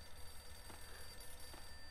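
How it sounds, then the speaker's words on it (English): A telephone rings in Max Payne, faint high electronic ring tones held steadily beneath a low background hum, with no talk. "Is that a phone?"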